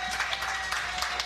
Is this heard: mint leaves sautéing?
no